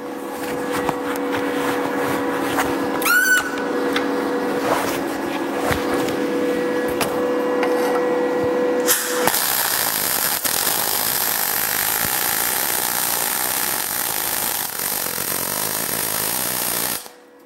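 A MIG welder fed with wire is switched on. Its steady tonal hum is joined about halfway through by a loud, continuous crackling hiss of arc welding that holds to the end.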